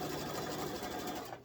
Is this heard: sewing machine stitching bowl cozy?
yes